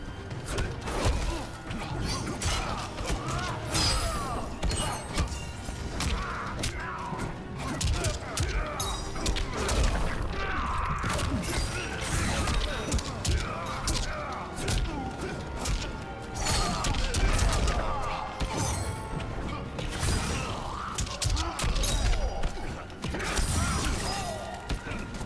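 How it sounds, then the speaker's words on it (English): Fighting video game combat with a crushing-blow combo: dense, continuous smashing, thudding hits and crunchy impacts over a busy game soundtrack, loud and sustained throughout with no clear pauses. "He just got hit with the worst combo, bro. Here goes the crushing blow!"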